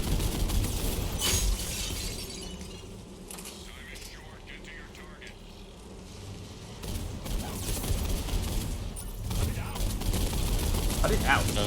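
Scattered gunfire and shattering impacts during a Mass Effect 3 multiplayer match on the Glacier map, moderately loud under a steady game soundscape, with a voice talking at points.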